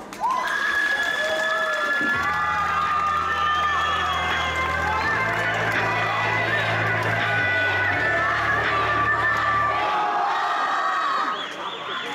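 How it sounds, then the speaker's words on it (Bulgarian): Crowd cheering and clapping at a high school graduation ball for a twelfth-grade class, a continuous noisy roar with shouts, overlaid by loud music with a pulsing bass line through most of the stretch. "Моля аплодисменти за интелигентните и вечно спорещи 12 А клас."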